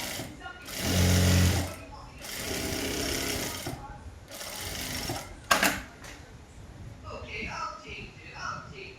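A sewing machine runs in bursts while stitching cigarette-bottom pants, its steady mechanical whir stopping and starting under a person talking throughout.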